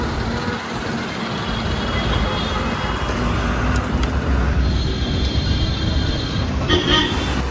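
A truck idles and rumbles while backing up, a steady engine drone filling the scene, with a thin, repeating reversing beep emerging in the second half.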